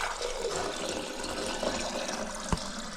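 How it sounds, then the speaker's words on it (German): Water flows steadily through an old pool pump as it is primed during a pool renovation, a continuous close rushing wash with one brief louder knock near the end. "Ihr seht es jetzt gerade nicht, aber Luke primert jetzt gerade hier mal die Pumpe, die alte."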